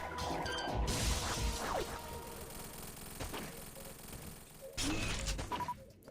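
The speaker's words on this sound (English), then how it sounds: "Let's try the ice beam." Ice beam shots fire in the Metroid Vanguard video game, with bursts of crashing, whooshing blasts that repeat unevenly, loud and busy over steady game music and effects.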